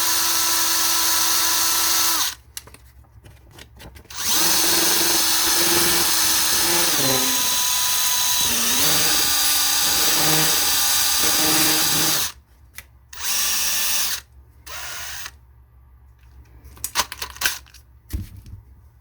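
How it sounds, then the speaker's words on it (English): A power tool whirs loudly in bursts against 1:25 scale model car tires, grinding them to look worn: long sustained runs with pitch shifts, pauses between, then short choppy spurts and a small clatter near the end. "that's how I grind my tires to make them look like they've been worn."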